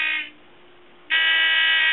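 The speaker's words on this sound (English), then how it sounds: "when you get even closer, the buzzer goes off." Homemade radiation detector buzzer sounding loud, steady high-pitched electronic tone that cuts out briefly then resumes at full strength, alone without talk.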